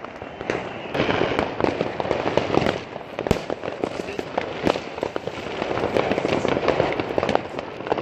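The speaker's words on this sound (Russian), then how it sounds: "Какой там салют красивый." New Year fireworks in Germany crackle and pop continuously, with sharp bangs scattered through a dense, sizzling burst of small explosions.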